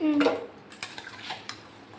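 Instant mango pickle being stirred in a bowl, giving close, clattering scrapes and clinks of a spoon against the dish in a quick, uneven series, with a brief squeak near the start.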